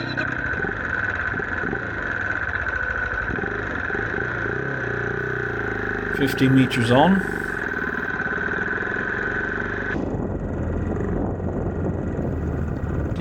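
A motorcycle engine hums steadily on a trail ride, a constant mid-pitched drone with a brief louder rev in the middle, while a rider speaks briefly over it.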